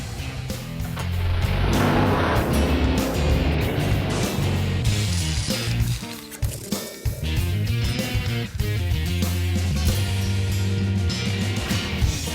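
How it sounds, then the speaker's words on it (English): A heavy semi truck rig's engine rumbles loudly and steadily close by, with a brief dip in the middle before the low roar picks back up. "The rig just pulled in."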